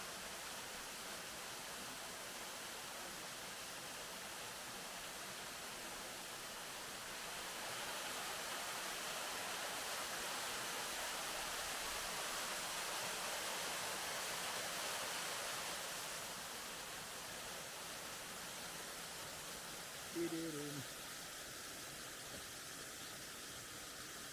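A steady, broad rush of falling water from Şak Şak Waterfall in Araç, Kastamonu, Turkey, fills the scene without pause, faint and distant, with a brief thump near the end.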